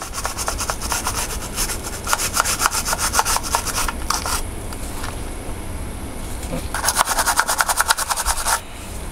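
A brush scrubbing grime off a vintage TIF instruments meter in quick, rhythmic rasping bursts, close up and fairly loud, pausing briefly midway before resuming.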